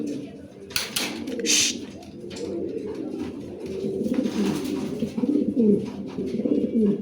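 Lahori pigeons on a farm coo in repeated low rolling calls, close by and overlapping, while a person talks over them and wings flap briefly early on.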